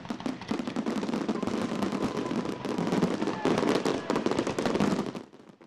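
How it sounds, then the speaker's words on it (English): Fourth of July fireworks crackle and pop in a dense, rapid barrage that runs nearly continuously and loud, then tapers off abruptly at the end, with no talking. "That is because of the fireworks."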